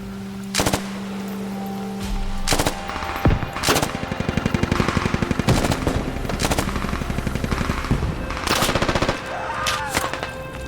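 Bursts of rapid automatic machine gun fire in the video game Squad, loud and close, repeating in short volleys across the clip with brief pauses between.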